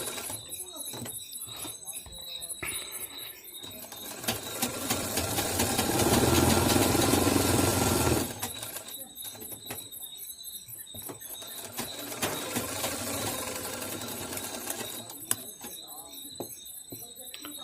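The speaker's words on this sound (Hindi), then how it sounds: "चारों तरफ सिलाई लगाते हैं इस प्रकार से धीरे धीरे।" A sewing machine stitching all around the edges of a katori blouse piece, a steady mid-pitched motor whir rising and running for several seconds, then quieter intermittent stitching bursts, with a person talking over parts of it.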